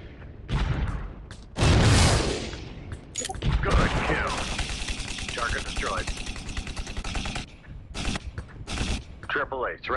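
Drone gunfire in Drone Shadow Strike rattles in rapid bursts and heavy booms, with a long sustained stretch of automatic fire. Radio-style voices and a mechanical whine sit beneath it, and the fire is loud and close.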